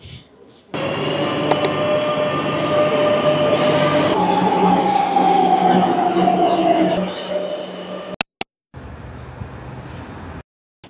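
Madrid metro train departing Plaza de España, with a steady loud rumble and rising motor whine inside the carriage, brief clatters near the end, then a quieter stretch.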